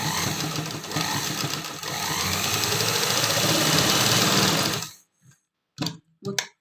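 A sewing machine stitching a pocket onto a palazzo pant runs in a steady close mechanical whir for about five seconds, then stops, followed by a few short clicks and handling noises.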